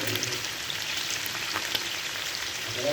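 Pork fat fries in a pan as it renders into oil, a dense continuous sizzle with scattered tiny crackles, close and steady, with no talking.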